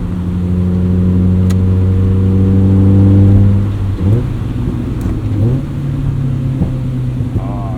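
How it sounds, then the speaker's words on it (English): A modified 2003 Mazda MX-5 Miata with an aftermarket exhaust, heard from inside on a highway: a loud steady engine drone that drops abruptly in pitch at each downshift, with two quick rev changes, close and alone. "Crispy downshifts."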